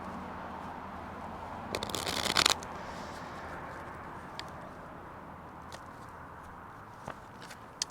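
Tarot cards are shuffled in a brief riffling burst close by, followed by quiet room tone with a few small taps and clicks.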